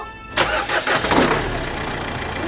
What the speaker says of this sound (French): Démarre la voiture, Lily.